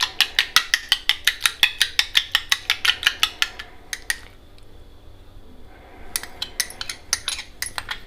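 Egg beaten by hand in a bowl for an Egg 65 batter, a fast run of sharp, close metal-on-bowl clicks in steady rhythm, then a short pause before the clicking resumes.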